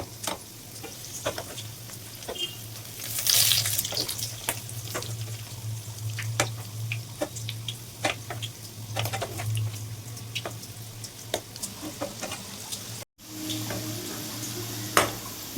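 Mango fritters bubble and sizzle in hot oil with a steady crackle, broken by occasional clinks and scrapes of a utensil turning them in the pan.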